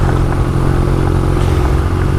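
Motorcycle loaded with metal luggage boxes riding along an unpaved track on a tour through Greece, a steady close engine drone with low rumble and faint rattling throughout, no talk.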